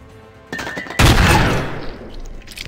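A grenade explodes in the sci-fi tactics video game Stellar Tactics, a short rising rumble and then one loud, sharp burst that decays into a long crackling tail, heard close with no talk.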